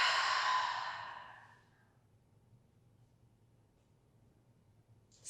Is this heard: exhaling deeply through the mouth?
yes